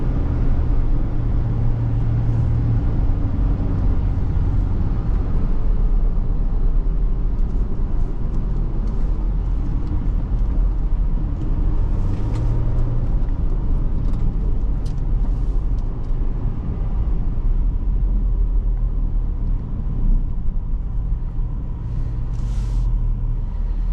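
A Ford Police Interceptor Utility Hybrid with a 3.3L engine accelerates gently at about 2,000 RPM, giving a steady, loud low engine drone with road and cabin rumble throughout. Tone rises and falls only slightly, and no one speaks.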